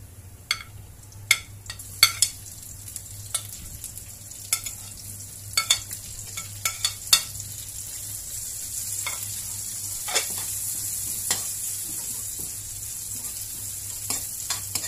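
White onions sauté with golden-browned garlic in a pan for chopsuey, a low steady sizzle broken by frequent sharp clinks and scrapes of a spatula stirring against the pan.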